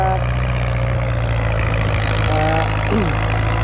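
A Ford 6600 tractor engine idles steadily at close range, a constant low diesel rumble with even harmonic drone throughout, doing contract work filling a pond.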